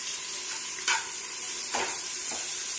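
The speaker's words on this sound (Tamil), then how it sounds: "வதங்கிட்டு இருக்கு." Onions and spices for chicken biryani sizzle steadily in a pan, a constant bright hiss broken by a few soft stirring scrapes, close up with no voices.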